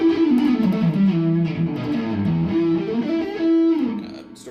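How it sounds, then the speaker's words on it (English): A 2001 PRS McCarty electric guitar with flipped pickup coils plays through distortion, ringing out loud and dark with sustained notes and sliding lines that stay continuous to the end. "Here's the distortion."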